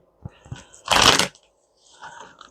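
A deck of tarot cards is shuffled close by: a few soft taps, then one dense riffling burst of about half a second, followed by quieter card handling.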